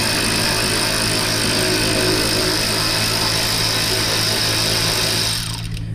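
Continuous whirring drone of a power tool backing out the front bumper bolts on a Buick Grand National, steady and fairly loud with a constant mechanical hum, easing off slightly at the very end.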